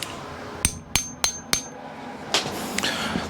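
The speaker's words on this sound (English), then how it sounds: "Now I'm going to spend 5 minutes trying to pound my socket free" Four sharp metallic hammer blows ring out in quick even succession against a socket stuck on a bolt of a motorcycle engine, then a pause and a couple of softer, scraping knocks.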